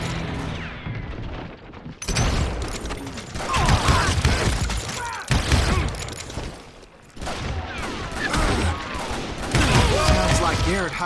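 Gunfire in the Western shooter Call of Juarez: Gunslinger, with repeated shots and bursts crackling through busy game sound across most of the clip, loud and near, and a brief quieter lull at the start.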